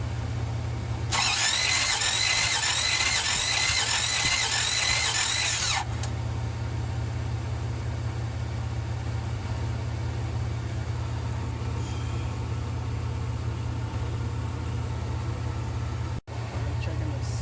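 A 1966 Buick Riviera GS engine cranks on the starter without firing during a compression test, a loud steady whirring churn for about five seconds, then a lower hum continues to the end.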